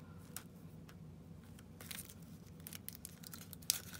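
Quiet close-up crinkling and tearing of an oracle card deck's packaging, with a few sharp rips and rustles, faint and intermittent.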